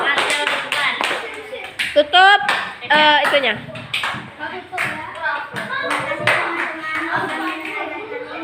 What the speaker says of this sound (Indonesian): Kita kasih tepuk tangan yuk.